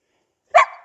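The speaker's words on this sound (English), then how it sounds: "I really apologize for the dog." A female dog gives a single sharp, loud bark close by, breaking sudden silence during an outdoor cornhole game.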